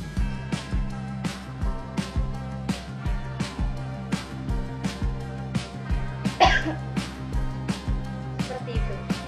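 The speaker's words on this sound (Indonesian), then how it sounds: "Lalu batukan. Saya contohkan ya." A single person demonstrates effective coughing technique in a steady series of repeated, evenly spaced coughs, close and clear, with a brief vocal sound partway through.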